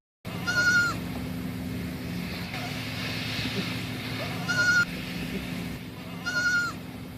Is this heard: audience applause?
no